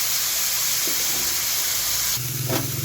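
Chopped tomato and butter fry together in a pan with a loud, steady hissing sizzle, joined near the end by a low hum and a brief surge of spitting, close by with no one talking.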